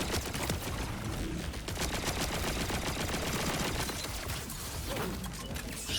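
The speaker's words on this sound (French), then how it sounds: "Je prends des tirs de je sais pas quoi." Heavy gunfire in the video game Borderlands 4: continuous, loud, rapid automatic shots and clattering bursts piling over one another for the whole stretch, with no talking.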